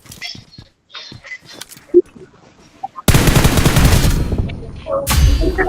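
Video game gunfire: scattered faint clicks at first, then a loud burst of rapid automatic fire that stops briefly and resumes.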